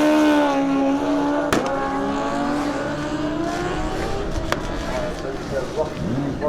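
A Honda CBR 650R motorcycle makes a straight-line race run at a raceway, its engine whining near and loud, then dropping in pitch as it passes and fades into the distance while an announcer speaks over it.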